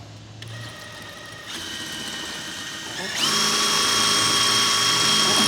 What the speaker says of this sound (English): So I just got to drill my 4 holes for my anchors.